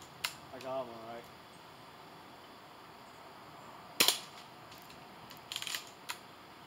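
A BB gun fired at a bees nest outdoors, giving a few sharp, isolated snapping shots spaced a second or so apart against a quiet background, with a short voice heard early on.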